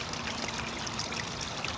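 Water spills steadily down a small garden pond waterfall, giving a continuous soft rushing and trickling wash with no pauses.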